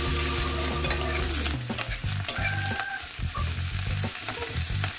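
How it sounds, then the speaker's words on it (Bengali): Chopped onions and spring onions fry in a pan for a Bengali dry fish chorchori, with a steady sizzle and repeated scraping stirs close by, no voices. "পেঁয়াজ আর পেঁয়াজ কলি একসঙ্গে আমি 2 মিনিটের মতো ভেজে দেব।"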